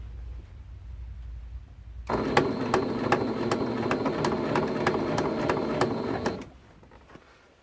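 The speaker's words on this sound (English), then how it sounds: "And continue sewing straight down your seam." A sewing machine stitches down a quilt binding seam, running at a steady rapid mechanical rhythm for about four seconds after a quiet pause, then stopping, close and clear with no voices.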